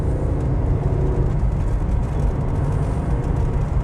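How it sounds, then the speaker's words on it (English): A Mercury Cougar V6 six-cylinder car engine running: a steady, smooth low rumble held at an even level, nearby and alone. "it's got a really subtle 6-cylinder sound on this car"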